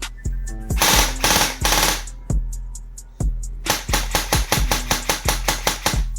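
A Classic Army MP5 airsoft gun with a MOSFET fires full auto, loud and close, in several rapid bursts and single snapping shots, ending in a rhythmic string of sharp cracks.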